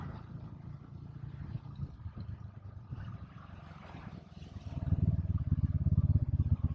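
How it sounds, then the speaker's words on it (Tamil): A small boat engine approaching the harbour at Mappila Bay, Kannur, chugs at a distance at first, then grows noticeably louder and throbbing for the last couple of seconds as it nears. "அங்க பாருங்க, சின்னதா ஒரு போட் இப்ப வந்துகிட்டே இருக்கு."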